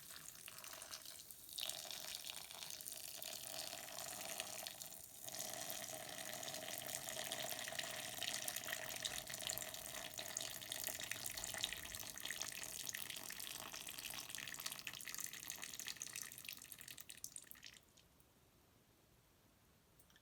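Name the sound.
water running out of cup holes onto sandcastle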